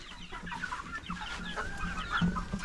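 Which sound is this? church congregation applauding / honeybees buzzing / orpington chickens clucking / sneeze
orpington chickens clucking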